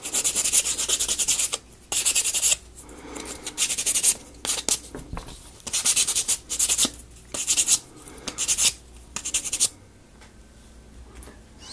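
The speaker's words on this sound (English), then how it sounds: "let's do the sanding right quick" Rough, rhythmic scratchy strokes of sandpaper rubbing wood, close and loud, in repeated bursts with brief pauses between passes.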